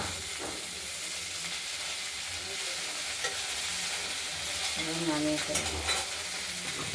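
Broccoli fries in a kadai while being stirred, a steady close sizzle and hiss broken by soft scraping and clattering stirs, with no talk.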